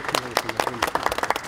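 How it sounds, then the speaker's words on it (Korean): Audience clapping at a party leader's site visit to an industrial complex, heard as a short burst of uneven, close hand claps over a faint murmur of voices. "저희가 응원하는 마음으로 박수 한번 치죠."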